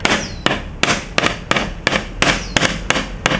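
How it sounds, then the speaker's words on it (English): The fuel pump of a Chinese diesel heater pulses, and its uninsulated fuel line bangs against the frame in sharp, loud knocks repeating every half second or so, close by and alone. "if you don't have your pipe insulated, your fuel line pipe, it's going to be banging up against the side of the frame or a wall"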